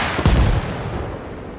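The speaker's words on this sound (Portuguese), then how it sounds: "Vamos dar um tiro aqui para ver se vai ter algum impacto no FPS." A single gunshot from a rifle in the video game Arma Reforger cracks sharply, then its boom fades into a short rumbling tail, alone with no voices.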